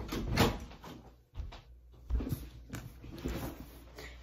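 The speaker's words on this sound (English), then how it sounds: "oh my god, the door is open" A door opening indoors, with several knocks and thumps of handling spread across a few seconds and a steady faint high hiss in the background.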